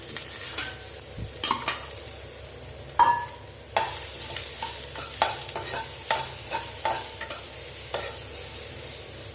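Onion and sweet potato sautéing in a pan, a low continuous sizzle broken by repeated scraping and clattering stirs at irregular intervals, close and moderately loud, no talking.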